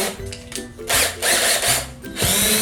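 Power drill fitted with a sanding attachment whirring in short bursts, revving up and down with a gritty abrasive rasp against a curved wood surface, close and fairly loud.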